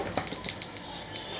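Spices such as bay leaf and cumin tempering in hot oil for a fish curry give a steady, soft sizzle and crackle with scattered pops and faint utensil clinks throughout.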